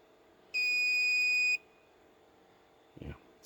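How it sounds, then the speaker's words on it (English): An Autel automotive scan tool plugged into a Chevy gives one loud, sustained electronic beep lasting about a second, followed by quiet and a brief muffled thump. "it's beeping at me"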